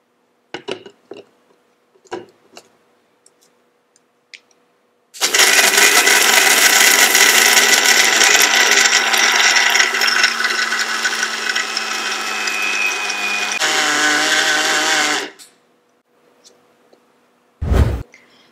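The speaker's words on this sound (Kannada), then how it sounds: "ಈಗ ಇದನ್ನು ಫೈನ್ ಪೌಡರ್ ಆಗಿ ಮಾಡ್ಕೊಳ್ಳೋಣ." Dry booster drink ingredients are ground into fine powder in a grinder. After a few light clicks comes a loud, harsh roaring whir of about ten seconds that shifts tone briefly before stopping, followed by one sharp knock.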